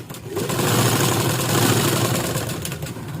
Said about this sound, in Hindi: उसी को मैं यहाँ पे स्टिच कर रही हूँ